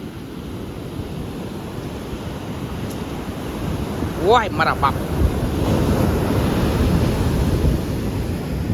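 Sea waves wash and crash in a continuous roar with strong wind buffeting the microphone; a person briefly exclaims midway.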